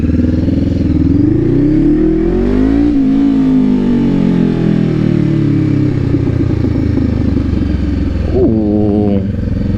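A motorcycle rides past with a loud engine note that swells, bends downward as it goes by, and stays close and strong throughout, with a brief higher rev near the end.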